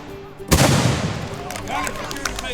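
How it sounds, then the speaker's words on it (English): A loud cannon blast at a historical battle reenactment booms suddenly and then rumbles away into a lingering echo, with crowd noise faintly audible beneath it. "they experience the chaos of battle with ear-splitting bursts of cannon fire."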